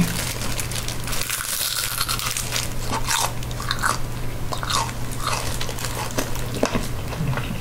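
A Vietnamese spring roll is bitten and chewed up close, giving crisp crunches and wet, crinkly mastication in irregular bursts over a low steady hum, with no talking.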